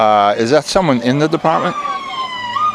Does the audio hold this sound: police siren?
yes